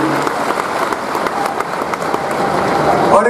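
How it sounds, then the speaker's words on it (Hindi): Sustained applause from a large crowd at an outdoor political rally in Maharashtra, dense steady clapping that swells slightly toward the end. "माताओं बहनों जोर से ताली बजाना"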